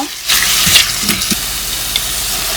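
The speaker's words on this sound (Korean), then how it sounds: "고기를 달달달달 볶아요" Ground beef stir-fried in a pan at a home kitchen, a loud steady sizzle with scraping strokes of a spatula throughout, no voices.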